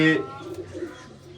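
A pigeon kept in a rooftop loft gives a short, soft, low cooing burst close by, with faint murmuring after it.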